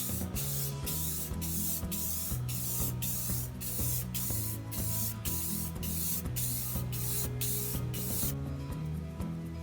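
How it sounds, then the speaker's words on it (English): Krylon spray paint hisses from an aerosol can in a rapid series of short, loud bursts, sealing a painted wooden surface, with no talking. "I'm going to apply a little bit of Krylon to the surface just to seal the paint before I apply a glaze"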